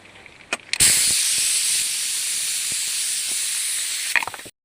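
Steam hissing from a pressure cooker as its lid is opened on a pea and tomato curry, a loud, close, continuous hiss that starts abruptly after a couple of clicks and cuts off after several seconds.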